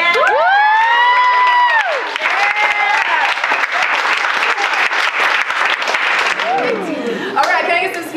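Audience at an open mic night claps and cheers loudly after a spoken-word performance, with whoops and shouted calls riding over dense, continuous applause that stays strong to the end.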